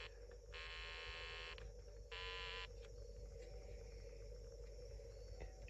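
A Snap Circuits sound circuit gives off low-pitched buzzing electronic tones in two short bursts over a steady faint hum, quiet and alone with no talk.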